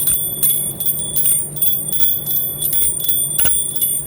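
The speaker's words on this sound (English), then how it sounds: "involve your child to ring the bell" A small brass puja bell is rung by hand with a wrist motion, its clapper striking rapidly and repeatedly while high steady ringing tones sustain underneath, close and fairly loud.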